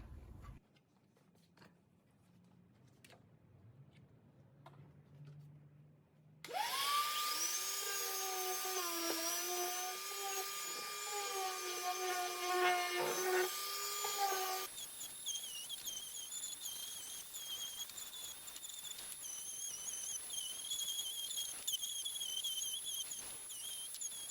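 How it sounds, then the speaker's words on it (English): A steady, high-pitched whining orbital sander runs loudly for several seconds on wooden desk edges, its tone wavering, then continues as a thinner buzzing whir after a quiet start. "There's a few edges that are hard to get with the orbital sanders."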